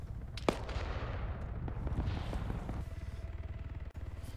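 Rifle gunshots in the military shooter game Arma 3, a sharp loud crack near the half-second mark followed by rapid bursts of distant gunfire and battle rumble continuing throughout.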